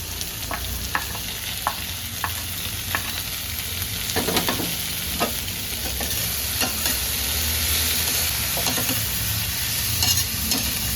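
Onion and tomato frying together in a pan, stirred at intervals, a steady loud sizzle with irregular scraping strokes throughout, close up and without speech.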